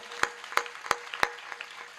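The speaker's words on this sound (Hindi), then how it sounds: "एक बार अपनी अपनी मां के लिए ताली बजा के मुझे आदेशित कर दें।" A few audience members clap in a slow, sparse rhythm at a Hindi comedy poetry gathering, with four distinct sharp claps followed by fainter scattered ones, fairly quiet and with no talk.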